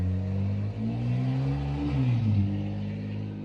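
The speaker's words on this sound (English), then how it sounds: "let that car go by" A car passing outside a house, heard as a mid-pitched engine hum that rises and swells as it approaches, then drops in pitch and fades as it moves away, with no talk over it.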